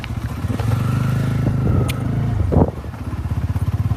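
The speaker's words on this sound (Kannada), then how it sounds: "ಗಾಡಿ ಬಂದಾಯ್ತು ಯಾವ್ದಂಗೆ ಅದೇ ರಾಮು ಡ್ರೈವಿಂಗ್ ಮಾಡತ್ತ" A vehicle driven by Ramu pulls up with a steady, close engine drone and some rattling, then a brief clunk before the engine settles into a throbbing idle.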